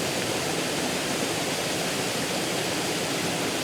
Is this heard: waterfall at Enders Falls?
yes